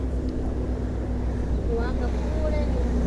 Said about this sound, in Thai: เรือมาอีกแล้ววิ่งแรงมากเลย